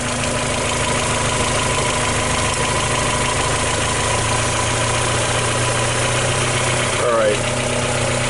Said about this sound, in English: So let's speed the idle up. So we'll turn the idle up here.